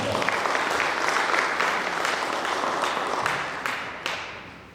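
A seated audience at a training session for school sports staff claps in a full, even burst of applause that gradually thins and fades over a few seconds.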